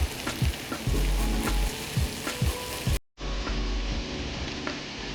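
Paneer jalfrezi ingredients fry in a pan with a constant, close crackling sizzle and occasional stirring scrapes. The sound cuts out abruptly for a moment partway through, then resumes.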